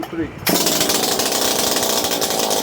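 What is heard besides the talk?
Makita DPC7321 gas concrete saw engine being started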